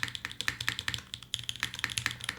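Rapid mechanical keyboard typing on Cream Plus switches, with soft, rounded clacks in an uneven, flowing rhythm, close and fairly quiet, with no voices.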